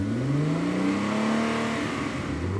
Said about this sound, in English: the rev of an engine